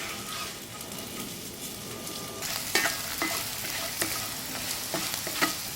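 Thanksgiving hash of potatoes and French fried onions sizzles in a cast iron skillet at a camp cooking setup, with a utensil stirring and scraping in short irregular strokes over the steady frying hiss, close by, no voices.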